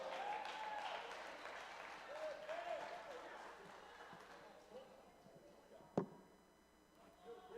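A church congregation applauding in a steady patter of clapping that fades gradually, heard under a voice speaking and crying out, with a single sharp knock near the end.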